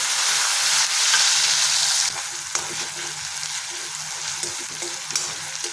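Green paste hits hot oil already crackling with mustard seeds, cumin and a pinch of hing, bursting into a loud close sizzle for about two seconds before settling into a steady frying hiss with scattered stirring clinks.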